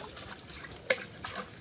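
Water drains from a tray of small river fish fry, a faint, soft trickle with one brief splashy drip near the middle.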